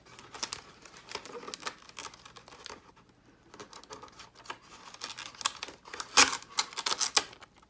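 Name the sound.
clear packing tape being wrapped around a part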